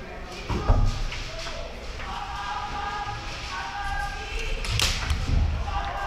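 An airsoft BB smacks into wood right beside a player's head during a city milsim game, giving a couple of sharp close thuds over a steady background of ambient noise and distant voices.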